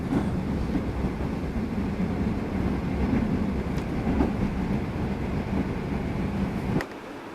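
A train arriving at Wangaratta Station rumbles steadily with a low, continuous roar and faint clicks, then the noise drops abruptly near the end as it comes to a stop.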